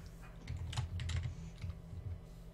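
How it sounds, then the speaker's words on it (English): Quick, irregular clicks of someone typing on a computer keyboard during a dubbed gaming stream, a steady close patter that runs the whole time with a low hum underneath and no voices. "This is where I think someone's typing in the card."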